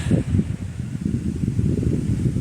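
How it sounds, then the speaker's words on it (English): Gusty wind at a mountain vista on the Appalachian Trail in New York buffets the microphone in low, rumbling bursts, steady and close throughout with no other sounds. "A little windy up here"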